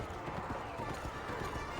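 Hooves of a horse clip-clop at a steady galloping rhythm in the video game Kameo: Elements of Power, close and moderately loud, with voices talking over it.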